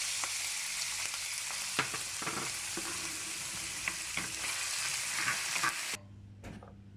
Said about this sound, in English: we're just going to fry them quickly in the pan